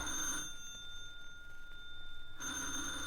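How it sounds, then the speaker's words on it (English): A telephone bell rings in bursts as a radio drama sound effect: two sharp ringing bursts at the start and end with a quiet gap between, heard alone with no talk. "You'd better answer the phone."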